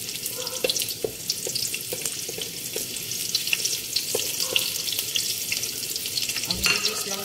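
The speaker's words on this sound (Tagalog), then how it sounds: "Kasi mainit-init na yung ating kawali. Tapos, onions." Onions sizzle steadily in a hot wok, a dense crackling hiss with scattered sharp pops, close and fairly loud with no voices.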